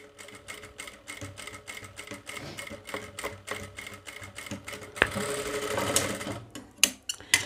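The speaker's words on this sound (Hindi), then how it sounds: "ये बॉर्डर के पास में आकर आराम से चलाएंगे सिलाई" A sewing machine stitches a fall onto a saree border with crystals on it. It runs at a slow, steady, rhythmic pace, close and clear, then speeds into a brief continuous whir near the end.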